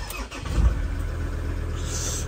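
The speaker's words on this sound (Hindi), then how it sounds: "माइनस वन के अंदर भाई आराम से स्टार्ट हो गई है अपनी गाड़ी" A Ford Endeavour diesel engine starts in minus one degree cold and keeps running as a steady, close, loud rumble that fills the clip.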